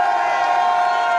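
A crowd cheers and shouts at a street protest in Bucharest's University Square, a short dense burst of massed voices with a steady bright tone running through it.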